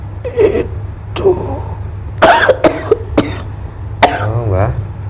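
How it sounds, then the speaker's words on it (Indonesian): Several harsh coughs and throat-clearing bursts from an elderly man, close and loud, scattered irregularly over a steady low hum. "batuk"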